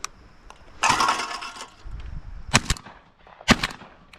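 An Ithaca 51 Featherlight shotgun fires several shots outdoors, sharp loud blasts spaced apart with short gaps, each followed by a brief decay and no talking between them.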